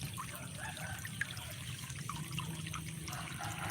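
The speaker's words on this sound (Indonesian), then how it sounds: "fungsinya buat air mengalir, Bang." Water trickling through a pump valve on a fuel-free, electricity-free water pump, a steady gurgling flow with light splashes close by.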